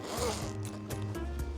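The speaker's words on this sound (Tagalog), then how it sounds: "tas di zipper ba yan, be?" A zipper on a bag bought in Vietnam is pulled open or closed in several quick rasping strokes, close and crisp, with short pauses between pulls and no talking.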